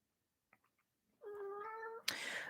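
A rescued cat lets out one clear, drawn-out meow close by after a few faint soft taps, followed by a sharp, breathy noise.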